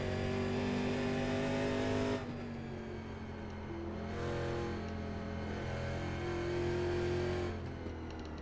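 Race car engines in a NASCAR Cup Series video game at Interlagos, Brazil, drone loudly and steadily with layered pitches, one engine dropping away and others swelling back in as cars run in a pack.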